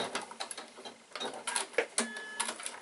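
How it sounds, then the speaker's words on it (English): A sewing machine stitches a row along folded fabric for a piped bag, producing a fast, uneven chattering of mechanical clicks and whirs, close and fairly quiet. "Fold the fabric over and then sew a row of stitching to hold it"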